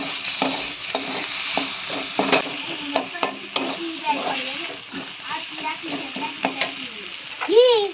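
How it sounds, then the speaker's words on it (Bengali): Onion, tomato, garlic and green chili fry in a pan in a Bengali home kitchen, a steady close sizzle broken by repeated scrapes and clinks of a spatula stirring against the metal. "এর মধ্যে দিয়ে দিয়েছি পেঁয়াজ টমেটো একটু বাদা একটু রসুন আর কাঁচা লঙ্কা তো এটা দিয়ে ভালোভাবে একটু ভেজে নেবো"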